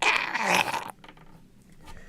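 A rough, breathy voice imitates a dog's hoarse, voiceless cough in one short raspy burst, followed by quiet rustling.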